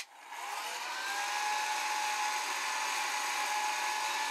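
Hair dryer running at minimum power, blowing on hair wound around curlers: a close, steady high-pitched motor whine with airy hiss that rises briefly at the start and then holds constant.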